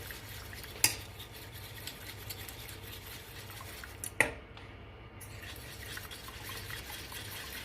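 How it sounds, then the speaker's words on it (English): A sauce being whisked in a bowl with honey added, for buffalo wings: a steady soft scraping stir with two sharp utensil clinks against the bowl, close and alone with no talk. "So whisk that just a little bit, and we're also gonna add in our honey."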